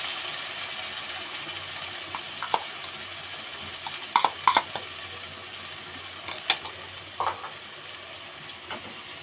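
Onion paste made from four medium onions frying in a pan for chicken rezala, a soft steady sizzle with a few louder pops and stirring clatters, no voices.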